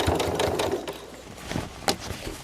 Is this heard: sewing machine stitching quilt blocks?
yes